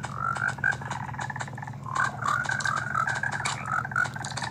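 Many frogs croaking in the Minecraft video game, a dense overlapping chorus of short chirpy croaks over a steady low hum, busy and continuous throughout.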